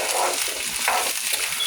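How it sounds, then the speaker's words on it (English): Frozen homegrown tomatoes simmer and soften in a pot, giving a steady, close, soft sizzle with faint stirring scrapes throughout, and no voices. "you just want to cook this until these tomatoes are unthawed and softened"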